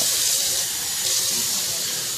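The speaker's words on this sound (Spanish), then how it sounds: "le voy a poner lo que es un chorrito de agua" Water poured from above into a cup of sugar for caramel for an avocado flan, heard as a steady, continuous splashing hiss for about two seconds with no voices.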